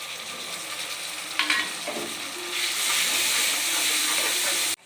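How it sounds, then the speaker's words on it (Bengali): Ginger-garlic paste drops into onions frying in a pan, set off by a brief wet splutter, followed by a loud, steady sizzle and hiss that swells and holds, with no one talking. "পেঁয়াজ ভাজা হয়ে গেছে, এবার মধ্যে দেবো আদা রসুন বাটা"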